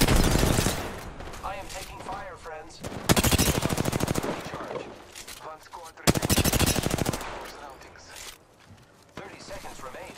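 Video game gunfire rattles in rapid automatic bursts, loud and close, broken by short pauses and mixed with in-game voice announcements.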